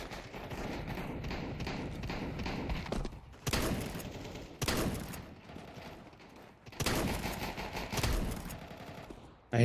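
Rapid bursts of automatic gunfire in Counter-Strike, dense rattling volleys broken by short pauses and sharp single shots, loud and continuous through the whole stretch with no talking over it.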